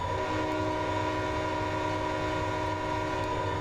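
An EMD SD40T-2 locomotive horn blares in Train Simulator 2015 on the Soldier Summit route from Provo, a loud, continuous chord held over the rumble of the train.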